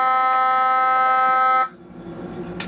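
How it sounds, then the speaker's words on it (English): Landing gear warning alarm in a flight simulator blares as a loud steady electronic buzzing tone for about a second and a half, then cuts off abruptly, leaving quieter cockpit background hum. "But because I mistimed it, that's what the alarm was"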